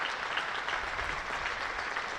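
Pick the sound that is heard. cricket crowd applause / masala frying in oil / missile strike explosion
cricket crowd applause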